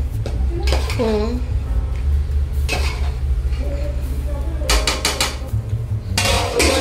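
A metal utensil clanks and clinks against a cooking pot while the water inside is checked, a series of sharp close knocks and rattles with some room noise between them.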